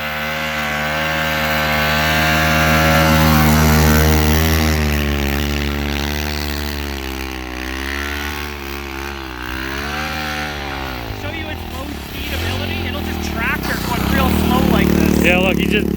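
A Kawasaki KLX110 minibike converted with a Timbersled Ripper snowbike kit drones steadily through snow, its small engine rising and falling in pitch as the throttle varies, loud and continuous with a voice talking over it.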